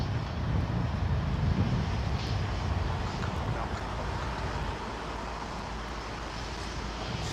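Airliner arriving on runway 27R at a busy airport, heard as a broad, steady roar of jet engines and rushing air that is strongest at first and gradually eases, distant and continuous with no talk.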